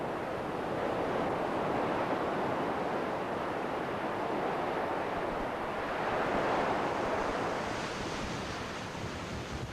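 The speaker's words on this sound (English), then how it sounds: "the waves are coming right up to the cliff and eroding them away" Waves breaking against an eroding coastal cliff along a narrow beach on the Holderness coast, a continuous loud wash of surf rising and falling, with no voices.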